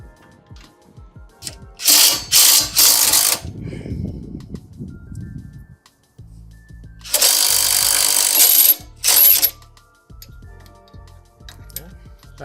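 A power tool or ratchet whirs in several short bursts while bolts come off the bottom of a shock absorber on a 2023 Chevrolet Silverado ZR2 during a Peak suspension install, with clanks and handling noises between bursts.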